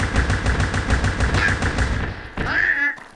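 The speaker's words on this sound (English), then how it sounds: "Oh, there go the 50 cals, though." .50 caliber machine guns firing in the video game Block Fortress, a rapid steady stream of heavy shots lasting over two seconds, then a short final burst before cutting off.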